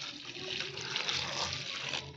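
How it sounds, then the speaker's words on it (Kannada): Water pours steadily into a pressure cooker holding cabbage, a continuous splashing rush lasting about two seconds with no other sounds. "ಕೋಸು ಮುಳುಗುವಷ್ಟು ನೀರು ಹಾಕ್ಕೊಳ್ಳೋಣ."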